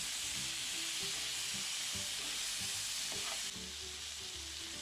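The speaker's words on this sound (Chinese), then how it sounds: "继续翻炒" Shrimp stir-fried in a hot wok with cooking wine produce a loud, continuous sizzling hiss throughout, with soft knocks and scrapes of the spatula tossing them.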